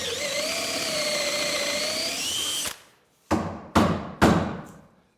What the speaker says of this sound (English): now I've drilled through into the mortise for the side piece here